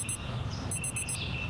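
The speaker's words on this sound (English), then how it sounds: "As usual, I'm woken by the sound of the alarm clock." An alarm clock ringing in the visual novel Lily Fantasia, a faint, high electronic beeping in quick repeated pulses over soft background music.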